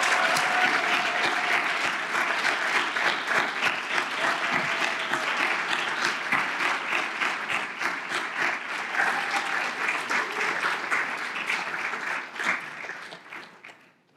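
A room full of people applauds Capitol Pathways students at a 2024 celebration event: thick, steady clapping from many hands sustained for over twelve seconds, then tapering off quickly to a few last claps.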